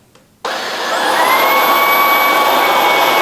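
A Ryobi 18V HP stick vacuum switches on after a brief quiet moment, its motor and spinning rollers rising into a steady, loud whine that settles into a constant hum.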